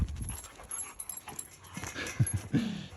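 Labrador dogs in a fenced backyard dog run whimper, yip and pant at close range in short irregular bursts, with some quiet background noise between them.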